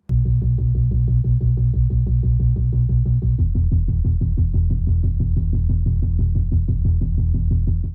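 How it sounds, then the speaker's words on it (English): A steady, pulsing synth bass line plays alone, with rapid repeated notes and a low throbbing tone that shifts pitch partway through. "So here's the bass part."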